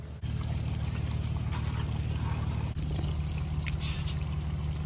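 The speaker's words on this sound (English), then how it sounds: "Yeah, just a minor leaky leak." Water leaking from a center-pivot irrigation system in a farm field, a steady pouring, splashing rush with a low rumbling undertone, continuous and fairly close, with no one talking.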